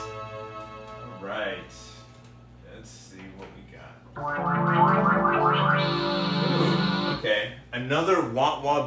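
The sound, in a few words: Korg Poly 800 synthesizer wah-wah bass sound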